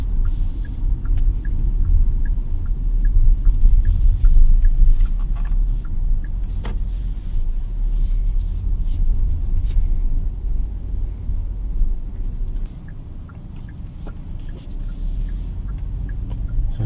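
A 2024 Kia Sonet 1.5 SX is driven through tight city streets, with a steady low engine and road rumble heard from inside the cabin throughout and no talking.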